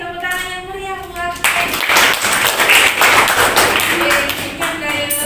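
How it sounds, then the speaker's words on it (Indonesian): An audience applauding with lively, dense clapping that swells after a moment of talk and carries on loudly, with voices heard under it. "tepuk tangan yang meriah"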